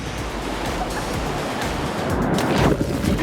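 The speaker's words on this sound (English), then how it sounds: "a big wave comes and just thrashes all of us" A big ocean wave crashes over a group of surfers in the water, a loud, continuous roar of breaking surf with rushing water and wind noise that swells toward the end.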